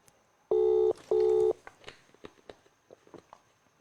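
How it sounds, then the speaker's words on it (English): Two long ringback tones sound on a phone call while waiting for someone to answer, followed by soft faint clicks and rustles. "please answer your phone"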